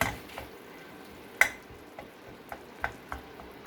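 Tomatoes for chutney frying in a pan while being stirred, a soft continuous sizzle broken by several sharp scraping clicks of the spoon against the pan at irregular intervals, close and fairly quiet.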